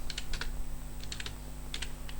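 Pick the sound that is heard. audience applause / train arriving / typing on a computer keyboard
typing on a computer keyboard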